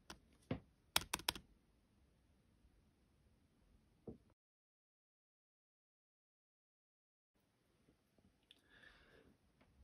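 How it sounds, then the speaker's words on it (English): A few sharp plastic clicks close up as a MacBook Pro keycap snaps into place, a quick cluster near the start and one more a moment later, followed by near silence and faint handling noise. "gently work your finger across the top to click it back into place"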